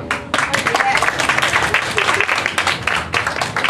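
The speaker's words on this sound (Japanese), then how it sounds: "みんな拍手。" A crowd at a festival stage show applauds loudly and continuously, a dense roar of clapping that starts abruptly and rolls on with voices mixed in.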